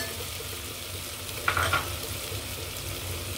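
Chopped carrot and potato dropped into onions frying in a pan for white biryani, a low steady sizzle with a brief clattering burst as the pieces land and are stirred, no talking.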